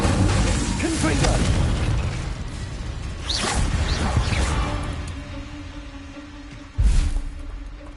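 Incendio fire spell bursts in Hogwarts Legacy, several whooshing blasts and a sharp burst near the end, mixed with game effects and a voice shouting spell names.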